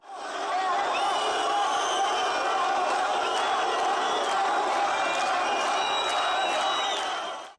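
A large protest crowd chants slogans and shouts in unison at a sit-in, loud and continuous, with scattered whistles over a dense roar of voices.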